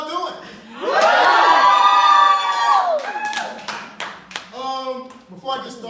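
A small comedy club audience shouts and cheers back at a stand-up comedian in a loud burst that swells, then breaks into scattered whoops, claps and individual voices calling out.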